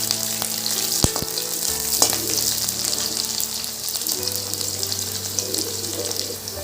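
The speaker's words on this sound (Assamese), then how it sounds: "এইখিনি আমি এতিয়া 2 মিনিটমান ভাজি ল'ম।" Chopped onions frying in hot oil in a home kitchen while making spicy pasta, a steady close sizzle with a few sharp clinks and tap-like splashes over it.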